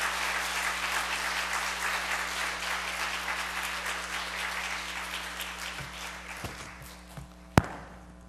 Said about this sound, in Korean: 여러분들 한번 큰 박수로 한번 축복해 주시길 바랍니다